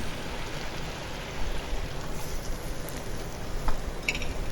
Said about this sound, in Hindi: कुछ देर पकाने के बाद इसमें 1 गिलास पानी डाल दें